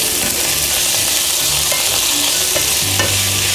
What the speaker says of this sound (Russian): добавляем ветчину. Все мы хорошо перемешиваем.